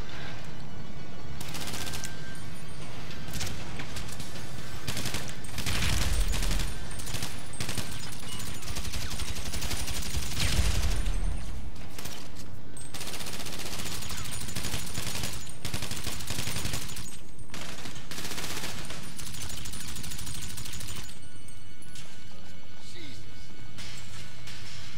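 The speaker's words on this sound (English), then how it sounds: "Whoa, they're shooting from beyond." Rapid bursts of gunfire in the video game Grand Theft Auto 5, dense and loud throughout with crashing impacts, the shooting continuing steadily with brief lulls near the end.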